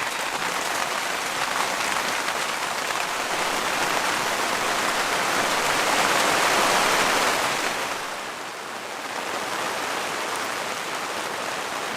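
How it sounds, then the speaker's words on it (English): Heavy rain pours steadily on a farm, a dense broadband hiss that swells louder midway and then eases slightly, with no talking over it. "And now it's starting to rain, which is great fun, but it doesn't stop the work."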